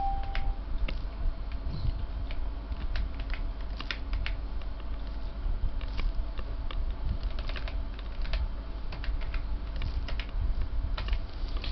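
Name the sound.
typing the word line on a computer keyboard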